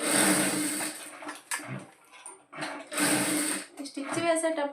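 Sewing machine stitching piping onto a blouse, running in short bursts of whirring stitches with pauses between, as someone talks over and between the runs.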